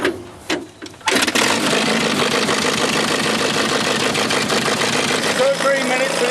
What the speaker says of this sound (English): this one is pulled by a tractor, which means there are 2 engines to start